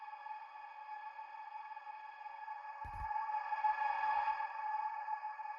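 A sustained synth pad chord run through a distortion effect, with a gritty, distorted buzz, swelling slightly louder midway, with a brief low thump near the middle.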